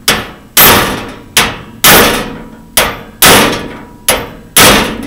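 Hammer striking a chisel to chop duralumin axle parts on a tracked articulated all-terrain vehicle: seven loud, close, sharp metallic blows at a steady rhythm, each ringing briefly before the next.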